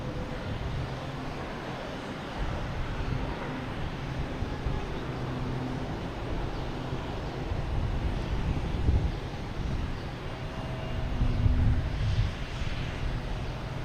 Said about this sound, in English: JetBlue coming in from DC.